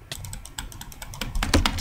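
Rapid typing on a computer keyboard, close and crisp, with irregular clusters of key clicks quickening toward the end.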